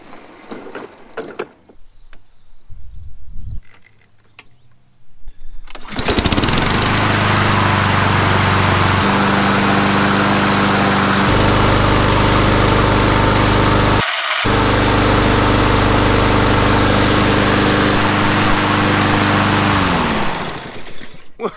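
A lawn mower fitted with a new hour meter is first handled with faint clicks and rustles. Then its engine fires up and runs steadily, loud and close, for about fifteen seconds, with one brief dropout midway.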